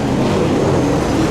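Super saloon race car engine at full speed on a circuit during the Hawkes Bay championship, a loud, steady droning roar with no break and no talk over it.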